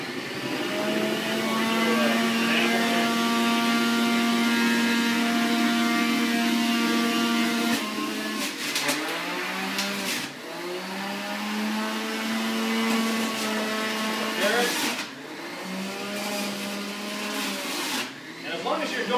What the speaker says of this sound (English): So let's go ahead and turn this juicer on.